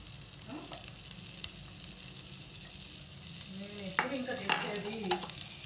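Garlic fries in a pan with a steady soft sizzle, and a utensil stirs and scrapes against the pan in occasional louder clinks toward the end.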